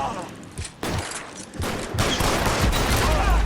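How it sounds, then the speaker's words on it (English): Rapid gunfire from the L.A. Noire video game, a dense, loud run of shots over about three seconds that builds in intensity, with game noise beneath. "I shot that guy in the face."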